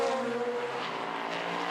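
An LMP3 prototype race car in an endurance race at Imola, its engine a steady high-pitched whine that rises slightly as it passes, loud and continuous with no voices.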